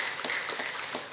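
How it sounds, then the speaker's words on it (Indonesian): A church congregation at HKBP Serpong applauds during a Sunday worship service, a steady wash of clapping hands that holds at an even level throughout, with no voices standing out. "Kita tepuk tangan dulu untuk semua jemaat."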